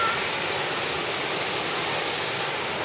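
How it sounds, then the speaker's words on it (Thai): Chet Sao Noi waterfall in Muak Lek, Saraburi, pours with a constant, close, full rushing roar of falling water, steady throughout and with no voices. "นี่คือความสวยงามของน้ำตกเจ็ดสาวน้อยนะครับ"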